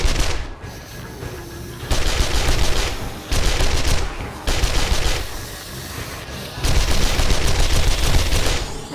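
Tier-one SMG in the 7 Days to Die console version rattles in long automatic bursts during a horde night, several sustained volleys separated by short pauses, loud and close with no talking.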